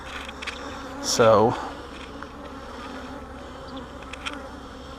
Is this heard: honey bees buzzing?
yes